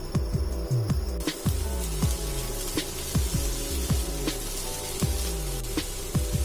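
Three sliced onions are sautéed in a dry pan without oil for a Kerala-style kappa biriyani, with a soft sizzle under quick, regular scraping strokes of a spoon that repeat steadily throughout.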